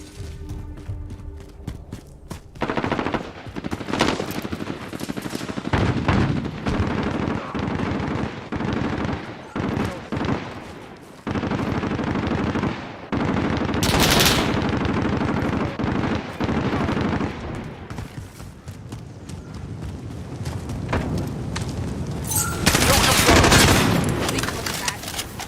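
Video game gunfight with sustained machine gun bursts and heavy fusillades, punctuated by explosions, loud and nearly nonstop with brief lulls, while a voice speaks intermittently over the action.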